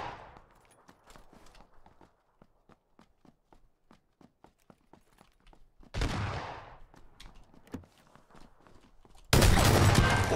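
Shotgun fire in PUBG: a quick run of sharp, evenly spaced ticks like footsteps or reloading, then a loud booming blast near the middle and another heavy burst at the end, close and unvoiced.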